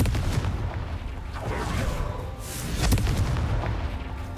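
A Confringo blasting spell in Hogwarts Legacy sets off booming fiery explosions, with several dull, heavy blasts and whooshes rumbling close over a few seconds.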